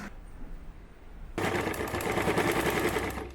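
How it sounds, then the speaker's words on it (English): A sewing machine stitches down both sides of a long folded fabric strap for a crossbody bag, a dense loud mechanical whirr starting abruptly partway through after a quieter lead-in. "So fold the sides to the center and fold it again. Sew down both sides."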